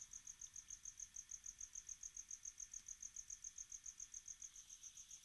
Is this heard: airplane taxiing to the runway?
no